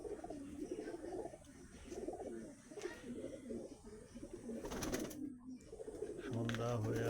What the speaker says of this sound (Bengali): সব ধরনেরই পায়রা আছে বন্ধুরা।